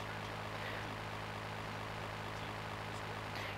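An airplane engine in Grand Theft Auto drones steadily, a constant even whine heard close throughout with no pauses.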